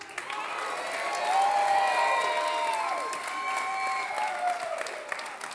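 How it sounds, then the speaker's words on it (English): A live show finale audience applauds warmly, a full, sustained wash of clapping with scattered cheers and voices rising through it, swelling in the middle and holding steady to the end. "Let's hear a round of applause if you think he looks better."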